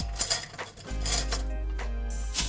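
A metal spoon clinking against a bowl while baking powder is added to cake batter, a few quick sharp chinks and taps close by, followed by a dull steady hum.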